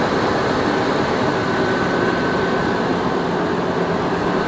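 A 2006 Nissan Armada with a swapped-in 5.6 engine runs steadily, giving a loud, constant rumble and hum close by with no changes in pace and no voices.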